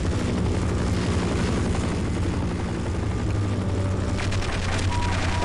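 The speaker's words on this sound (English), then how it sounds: "Ah, stupid chopper" A helicopter in the first-person shooter Half-Life thunders close and loud with a continuous rotor chop and engine roar, steady throughout with a brief rise in hiss near the end.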